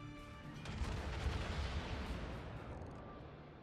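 A Kirov cruiser fires its guns in World of Warships, a single rolling, booming salvo that swells and then fades away.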